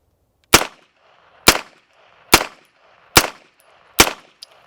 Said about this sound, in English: we'll just start out with 5 rounds of unsuppressed out of each gun